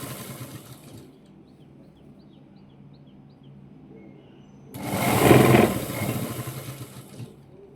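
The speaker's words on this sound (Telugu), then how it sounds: "ఇలా దీని మీద ఒక కుట్టు వేసుకోవాలి." A sewing machine stitches a hem on a plain blouse, a low steady mechanical whir that swells into a loud, close run for a few seconds near the end, with quieter running and faint chirps before it.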